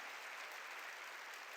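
Congregation clapping during a church sermon, a dense, even roar of many hands that holds at a steady level throughout the short stretch, with no voices standing out.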